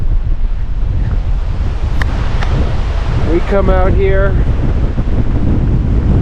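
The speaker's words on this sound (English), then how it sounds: "Ooh, it's windy." Strong wind roars and buffets the microphone steadily over crashing surf at a viewpoint in Triglav National Park, with a person briefly speaking and a short vocal call in the middle.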